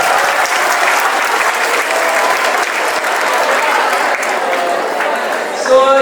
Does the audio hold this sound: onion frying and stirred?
no